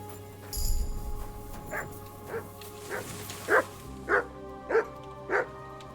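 The dog Mutt in Kingdom Come: Deliverance II barks in a regular series of about seven sharp woofs spaced roughly half a second apart, over quiet game ambience with an early low rumble.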